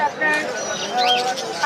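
Caged pigeons or doves coo and chirp close by at a Friday bird market in Mirpur, Bangladesh, their calls overlapping with people talking nearby.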